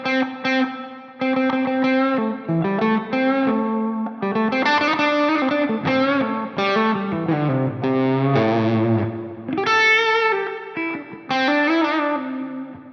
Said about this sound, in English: So I could say that's a fairly dramatic amount of reverb there.